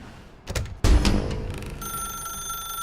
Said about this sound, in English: maybe we better answer that phone